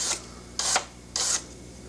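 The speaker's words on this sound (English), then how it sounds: "Once again, grabbing the toothbrush." A toothbrush scrubs a plastic jet aircraft model in three quick, close, bright bristly strokes, each a short rasping swipe with pauses between.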